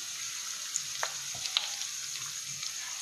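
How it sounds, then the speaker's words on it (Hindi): Onions fry in a pan with a steady, soft sizzling hiss, broken by a few faint clicks and light stirring taps. "सबसे पहले मैं प्याज डालूंगी इसमें, प्याज को हम फ्राई करेंगे"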